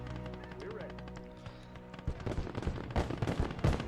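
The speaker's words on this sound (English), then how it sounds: "We've got some auto cannons hitting us right now." Auto cannon fire in the World War II video game Gates of Hell, a rapid string of sharp bursts and impacts that grows louder in the second half, over low rumbling battle ambience.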